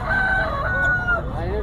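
An Aseel rooster crows at a Sunday bird market in Lalukhet, one sustained, wavering call held close and loud over a busy background.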